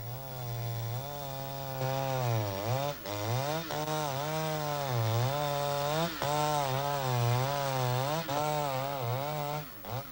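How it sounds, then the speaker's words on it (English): Chainsaw felling a Tasmanian oak tree runs loudly and steadily for ten seconds, its engine pitch dipping and rising repeatedly as the chain bites into the trunk. "This Tasmanian oak is about to be felled."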